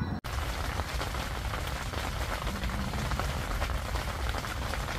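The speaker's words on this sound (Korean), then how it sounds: "아, 또 비 온다." Steady rain pattering at a seaside family campsite, a dense continuous hiss of drops on surfaces close by, running without a break and with no talk.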